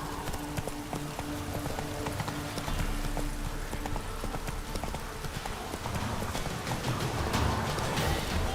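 Horse hooves clip-clop in the Witcher 3 video game, a steady, continuous run of close hoofbeats over ambient game sound and music throughout.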